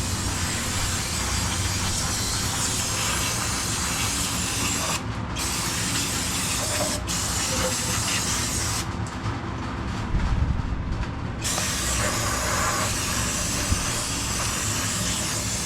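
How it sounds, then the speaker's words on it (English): Brake cleaner hisses from an aerosol can in a long steady spray, with brief pauses, as it is sprayed onto an oily steering rack of a drift car; loud and close, no talking. "used a full can of brake cleaner, cleaned the whole rack completely, and cleaned the surrounding areas"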